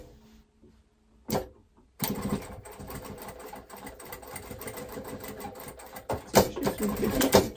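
A sewing machine runs a holding seam on trousers, starting after a brief click and then whirring in a fast steady patter close by, with a short pause and a louder final burst of stitching.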